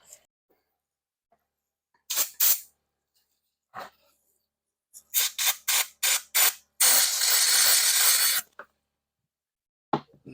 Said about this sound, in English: Give that a quick squirt of brake clean.